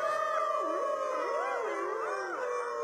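Sled dogs howl together in long, wavering, overlapping cries that rise and fall in pitch, loud and close, with no talking.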